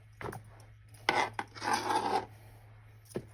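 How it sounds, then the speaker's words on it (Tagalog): A knife slices through tomatoes on a board: a few short rasping cuts and one longer sawing stroke, close and quiet against a low steady hum. "Hiwa tayo ng kamatis."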